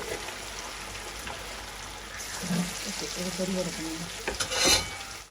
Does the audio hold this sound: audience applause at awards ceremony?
no